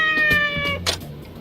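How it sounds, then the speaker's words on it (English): A cat meows in the video game Like a Dragon: Ishin, one clear drawn-out meow up close, followed by a brief softer sound, with no talking over it. "You're the greatest little cat I've ever met."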